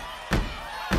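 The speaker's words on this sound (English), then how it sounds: "Can you guys stomp your feet like that?" Two heavy, low thuds about half a second apart, children stomping their feet on the floor in a class setting, moderately loud against a quiet room.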